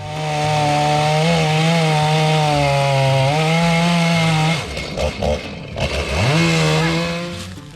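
A chainsaw roars loudly and steadily cutting wood, its engine pitch wavering as it cuts, dropping briefly to a sputtering idle before revving back up.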